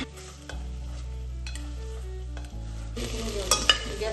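Boiled mutton for Afghani mutton gravy sizzles and is stirred in a pan as its remaining water cooks off, a close, continuous frying crackle over a low steady hum, with a few sharper scrapes near the end and no speech.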